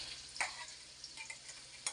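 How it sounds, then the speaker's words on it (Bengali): Onion is frying in oil in a pan beside a vegetable curry on the stove, making a continuous sizzle with a few sharp clinks and stirring scrapes scattered through two seconds. "পেঁয়াজটা একটু ভাজে নিই।"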